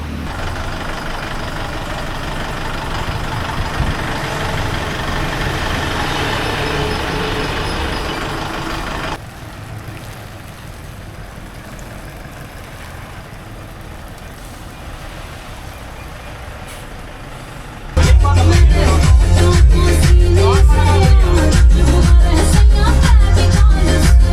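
Tata Marcopolo tourist bus engine running as the bus is moved during a water service, a steady rumble that drops quieter midway, then returns loud and close with rapid rhythmic pulsing.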